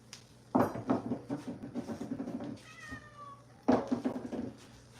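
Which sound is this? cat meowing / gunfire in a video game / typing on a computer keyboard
cat meowing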